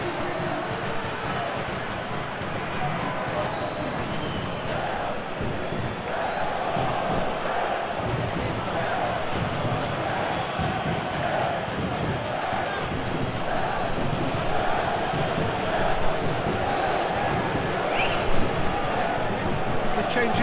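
Stadium crowd in a PES 2021 football video game match, a continuous roar and murmur of cheering fans beneath ongoing commentary from two voices.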